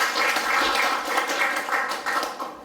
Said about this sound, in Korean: 인사하시면 힘찬 박수 보내주시기 바랍니다